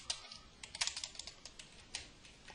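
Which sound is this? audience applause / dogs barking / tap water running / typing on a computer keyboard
typing on a computer keyboard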